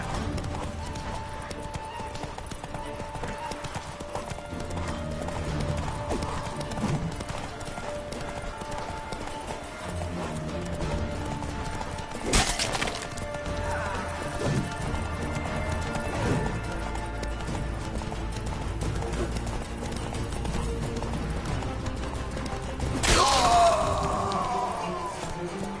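In The Witcher 3 video game, a horse gallops with a fast, continuous clip-clop of hooves, joined by occasional whinnies and brief crashes. It runs throughout under faint game voices.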